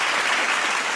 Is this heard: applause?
yes